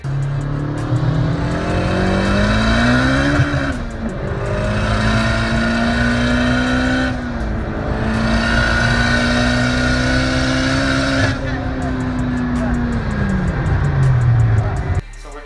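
A BMW E30 race car with a twin-turbo K20 engine and automatic transmission roars loudly as it accelerates hard, its engine pitch climbing and dropping sharply at each gear shift.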